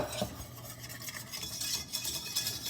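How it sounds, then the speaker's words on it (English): A whisk stirs cocoa into milk in a pot, a continuous close rattling swish with light metallic clinks, alone and steady throughout. "What I was going over there for was a whisk. I want to mix this up a little bit"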